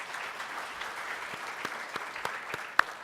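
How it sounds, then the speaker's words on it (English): A welcome-event audience applauds the organizing team with a steady patter of many hands, a few louder, closer claps cracking out near the end over the general clapping. "please give them all a large round of applause"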